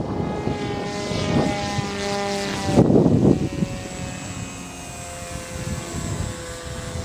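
Peace Drone propellers spin at half throttle in flight, giving a steady droning buzz with a tonal whine that swells briefly louder for a moment, then settles back to an even hum.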